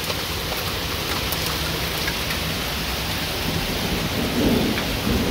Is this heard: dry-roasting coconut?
no